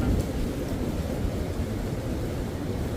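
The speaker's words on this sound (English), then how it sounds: "And so if anything scares me, it's this wind here." Steady broadband wind rushes and buffets around a tent covered with an extra red tarp at a freezing winter campsite under trees, a continuous loud roar with no talking.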